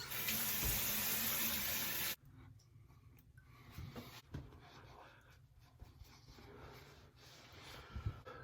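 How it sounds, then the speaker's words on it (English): Tap water runs loudly for about two seconds while beard conditioner is rinsed off, then cuts to quieter splashing, dripping and handling noises close by with small bursts of activity. "Time to rinse this off."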